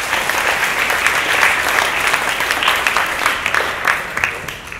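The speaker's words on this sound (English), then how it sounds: "So can I just get a big round of applause for all these guys?" A conference audience at a networking event claps loudly and continuously, dense, close applause filling the whole short stretch.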